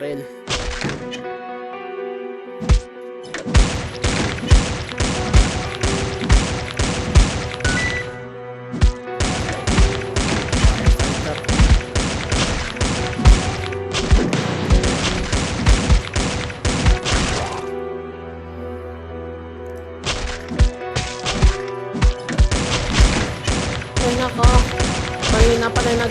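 Long bursts of rapid, loud gunfire in the video game Dead Ahead: Zombie Warfare, with brief pauses between volleys and a droning tone underneath.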